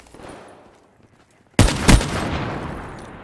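Gunfire from a shooter video game bursts in loud and sudden after a quiet stretch, a rapid volley with one heavier crack, then fading reverb trails off.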